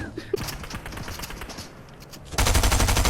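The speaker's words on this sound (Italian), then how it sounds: "Bella sta mitraglietta verde." A green submachine gun fires in Fortnite, a rapid loud burst of automatic shots that erupts abruptly after a stretch of quieter game noise and indistinct voice.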